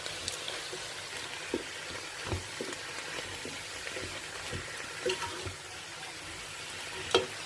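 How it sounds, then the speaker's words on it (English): Beef and chicken sizzle and crackle steadily in a hot pot while a utensil scrapes and clatters now and then as it is stirred. "give it a good stir, keep frying it"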